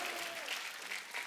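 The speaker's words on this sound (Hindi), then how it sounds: "तालियां अगर आपका मन हो तो बजा लेना" Studio audience applause fills the comedy talk show stage, a dense, steady wash of clapping that holds at an even level throughout, with no talk over it.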